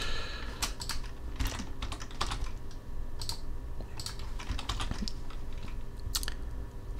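Rapid computer keyboard typing of shortcut combinations, steady clusters of crisp key clicks and taps, close and clear over a faint hum, with no talking.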